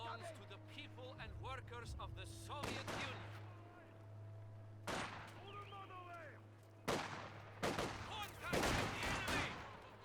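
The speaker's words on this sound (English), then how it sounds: "Mortar firing away." Mortar fire in Company of Heroes 2, a World War II strategy game battle between German Ostheer and Soviet forces: several sharp blasts and thuds at irregular intervals over a constant hum, with someone commentating throughout.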